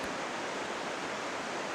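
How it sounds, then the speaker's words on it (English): Steady broadband rush of the Carbon River flowing in Mount Rainier National Park's rainforest, a continuous even water roar heard from a short distance with no voices. "So over there is the Carbon River"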